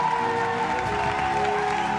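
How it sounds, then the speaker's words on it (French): An audience applauds at the finale of a Mario plush party-game show, giving a steady, dense wash of clapping that runs for the whole moment, with music or tones mixed in. "Veuillez applaudir le grand, vénère, grande gueule, mais qui avait quand même du mental, Eris."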